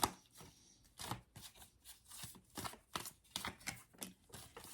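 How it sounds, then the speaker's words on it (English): Tarot cards are shuffled and drawn from a deck in quiet, quick papery flicks and snaps, a dozen or so close, soft bursts with no talking. "2 more cards, Spirit. 2 more cards."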